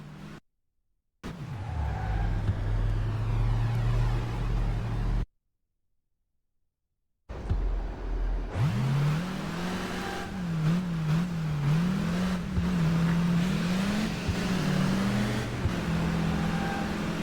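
A car drives in the video game Crash Time 3, its engine humming and rising in pitch as it accelerates, broken by two silent gaps, then wavering revs over steady road noise.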